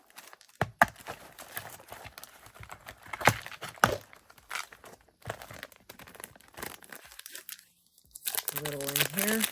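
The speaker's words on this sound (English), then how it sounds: "All the crinkly noises, huh, guys?" Plastic packaging from a SHEIN haul of junk journal supplies and stickers crinkles and rustles in close, irregular bursts while being unwrapped, with brief quiet gaps and a voice speaking near the end.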